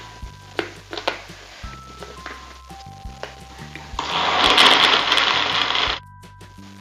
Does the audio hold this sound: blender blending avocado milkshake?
yes